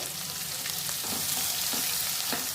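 Chopped onions fry in hot oil for pulla upma with a loud, dense, continuous sizzle, broken by a few faint scraping stirs.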